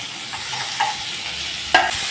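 Chopped onions fry and sizzle steadily in a pan with cumin and green chilies, a constant hiss broken by a few stirring scrapes and one sharper clatter near the end.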